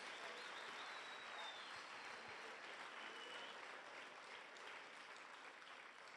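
A church congregation claps steadily for God during an evening service, dense continuous applause filling the room from start to finish with no voices standing out.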